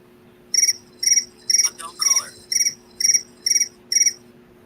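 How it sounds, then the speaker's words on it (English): Crickets chirp in eight evenly spaced, bright bursts that stand out clearly against a faint background hum, with a brief warbling call in the middle. "We're hearing crickets."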